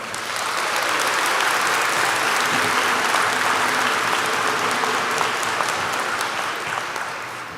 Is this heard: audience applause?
yes